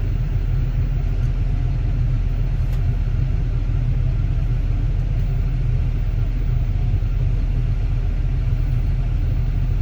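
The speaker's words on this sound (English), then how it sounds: "Here's this semi. He's getting kind of lined up." A semi truck's engine rumbles steadily at low pitch as it lines up for loading, a loud, even drone with no other sounds standing out.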